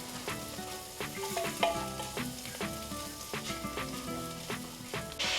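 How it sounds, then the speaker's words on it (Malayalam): Chili powder, coriander powder and meat masala sizzle and fry in a pan for a beef curry, with steady crackling and repeated stirring clatters of a utensil against the pan, close and alone. "മുളക് പൊടി, മല്ലിപ്പൊടി, മീറ്റ് മസാല, ഇത്രയും സാധനം ഇട്ട് കഴിഞ്ഞ് ഇനി നമുക്കിതൊന്ന് മൂപ്പിച്ചെടുക്കാം"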